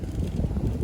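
Strong wind buffeting the microphone at a paraglider launch near Tokyo, a close, loud, continuous low rumble with gusty fluctuations throughout the brief moment.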